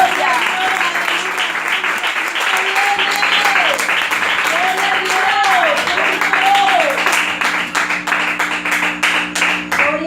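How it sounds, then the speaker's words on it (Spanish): A church congregation breaks into sustained, dense applause during a sermon, the clapping loud and steady for several seconds with a voice calling out over it in the middle before the applause thins toward the end. "Denle un aplauso, hermano."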